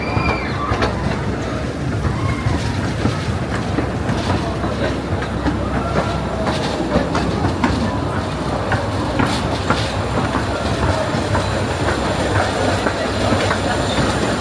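A roller coaster train at Blackpool Pleasure Beach rumbles and clatters along its track, a steady loud roar that carries through the whole stretch.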